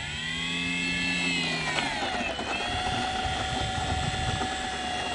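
Electric shoulder-wing model airplane taxiing, its motor giving a steady close whine that glides down in pitch and then holds level, with wind and ground rumble underneath.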